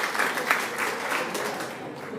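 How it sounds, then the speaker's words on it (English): A quiz audience at a grand final gives a round of applause, a steady moderate wash of clapping filling the room, with faint voices mixed in. "Round of applause for a general round for everyone."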